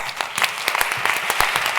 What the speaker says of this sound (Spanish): un aplauso para vosotros